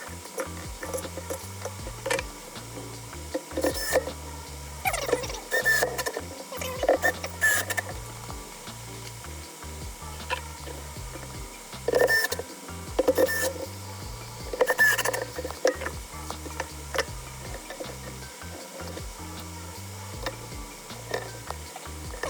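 Screws being driven into the case of a PS2 Slim console during reassembly, a run of small irregular ticks and clicks with brief bursts of mechanical whirring, close and fairly quiet.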